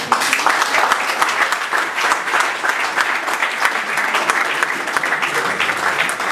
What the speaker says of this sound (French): je vous prierai d'applaudir Eric